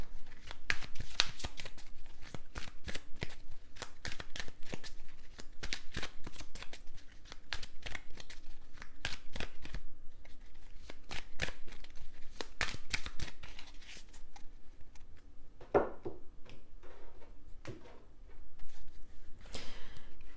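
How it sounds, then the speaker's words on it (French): Tarot cards repeatedly shuffled, flicked and laid out on a table, a steady run of crisp close papery riffles and slaps with brief pauses, near and clear. "On va recouvrir les cartes."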